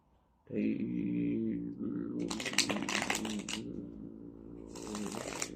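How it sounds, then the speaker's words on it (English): Tarot cards being shuffled in bursts of crisp riffling, close and fairly loud, with a person talking over the card noise throughout. "let's, one more shuffle"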